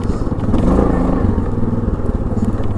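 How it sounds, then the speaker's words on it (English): Exhaust of a 2002 Yamaha Grizzly 660 single-cylinder ATV engine gives a loud, close, throbbing bark with some rattling clatter, steady throughout. "This Grizzly's got a nice little bark to it, exhaust."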